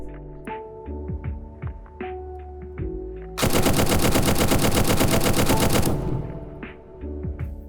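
Full-auto gunfire in the video game Zero Hour: Operation Black Dawn, a few short taps and pauses followed by one long, loud sustained burst of rapid shots lasting a couple of seconds, then spent casings and mechanical clatter.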